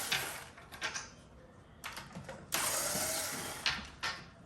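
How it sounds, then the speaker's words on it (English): Screws being taken out of a used wooden dining chair, giving bursts of mechanical ratcheting and clicking that start and stop over a few seconds, close and fairly loud, with no talking. "Remove these 4 screws."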